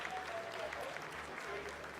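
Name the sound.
applause in mission control during lunar landing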